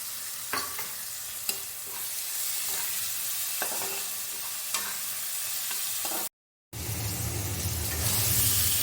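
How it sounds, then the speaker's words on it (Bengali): Tomatoes sautéed with ginger-garlic paste in a pan, with steady close sizzling and frying under a few sharp stirring scrapes, a brief silent gap, then louder continuous frying. "আদা বাটা দিয়ে টমেটো দিয়ে আমার ভালো করে কষানো হয়ে গেছে"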